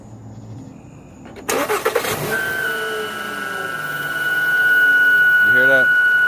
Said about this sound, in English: your sound should sound like this when you crank the car up